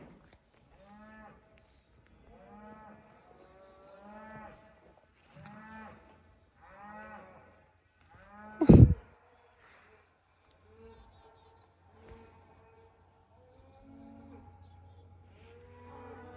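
Cows moo repeatedly in long, low calls, fairly close, with a sharp knock partway through and quiet background sounds.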